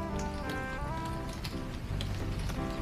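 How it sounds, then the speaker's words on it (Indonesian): Steady rain falls on surfaces outdoors, a dense, continuous patter of drops that holds an even level for the whole stretch, with faint tonal sounds mixed in the background. "hujan-hujan kayak gini bingung nih guys, mau ke tempat wisata juga hujan"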